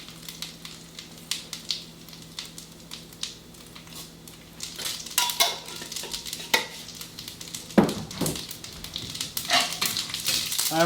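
Cumin and mustard seeds crackle and sizzle in hot oil, with intermittent pops and stirring scrapes growing busier and louder over time.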